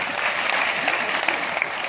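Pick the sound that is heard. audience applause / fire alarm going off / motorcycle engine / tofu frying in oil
audience applause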